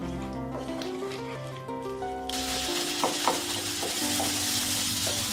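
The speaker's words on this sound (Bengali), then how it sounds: "পেঁয়াজগুলোকে হালকা ভেজে নেব," Onions frying lightly in a pan, a steady broadband sizzle that starts partway through and rises sharply, continuing close and fairly loud with a few soft clicks of stirring.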